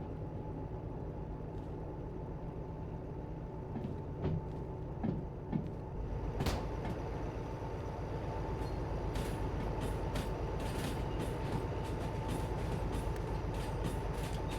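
A video-game train coasts along the track after the throttle is cut, a steady low rolling rumble with scattered clicks and clunks from the rail cars and a faint brake-like hiss, no talking.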